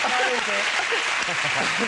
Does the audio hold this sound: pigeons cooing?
no